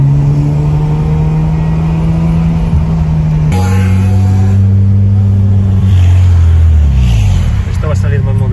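A Japanese-market Mazda RX-7 FD accelerates from the cabin, its loud engine drone holding steady tones that step up and drop with each gear change, with some talk over it.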